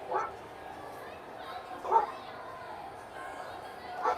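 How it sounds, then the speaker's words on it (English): Dog barks indoors, three short separate woofs spaced a couple of seconds apart, moderately near but not loud, over a quiet room. "I like that the dog started barking the instant you hit record."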